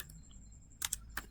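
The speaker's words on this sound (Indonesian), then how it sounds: "Nah, jika sudah kita bisa ketikkan" A few quiet, scattered keystrokes on a computer keyboard while Cisco router commands are entered, three or four soft clicks bunched near the end against a faint background hum.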